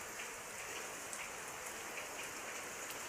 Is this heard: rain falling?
yes